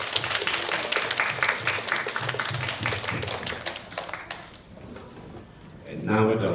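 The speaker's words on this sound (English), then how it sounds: "we'll just finish with one last round of applause" Audience applause closing a primary school English debate, a dense round of clapping that thins out and fades after several seconds, followed by a brief burst of noise at the end.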